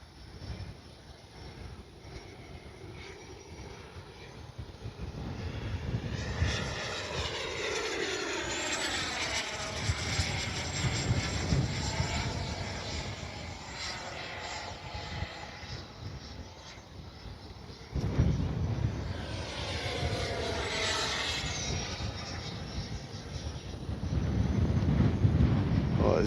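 An FMS 80mm F-86 RC jet flying on a windy day, its ducted fan whining in rising and falling passes as it sweeps near and away, with wind buffeting the microphone.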